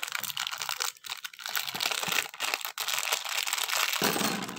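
Plastic packaging of a Beyblade Burst Flame brand Orb Egis spinning-top toy crinkles and crackles up close during unboxing, a dense, continuous rustle with a few brief pauses.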